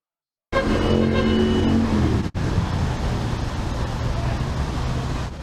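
Continuous road traffic on a congested Accra road in Ghana, cars passing steadily with a broad rumbling wash of engines and tyres that holds loud for several seconds, briefly cuts out, then resumes slightly softer.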